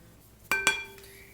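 A metal spoon knocks twice against a glass or ceramic container while freshly minced garlic is scraped out, two quick bright clinks followed by a faint ringing tail and a softer tap, close and quiet.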